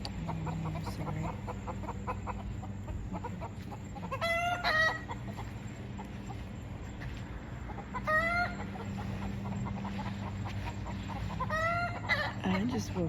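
Roosters cluck and give short crowing bursts at a distance on a farm, recurring every few seconds over steady low background hum.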